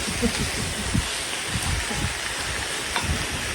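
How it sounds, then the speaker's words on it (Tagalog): Steady rain pours outdoors near a home kitchen, a dense continuous hiss with soft patters and scattered low thumps, fairly loud and without talk. "Ayan, sarap-sarap ng ulan."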